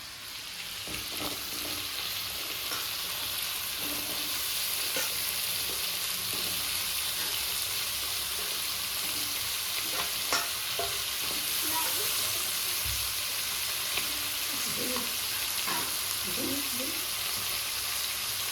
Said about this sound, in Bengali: লাল লাল ভাজা হয়ে গেছে, এবার লতিগুলো দিয়ে দিই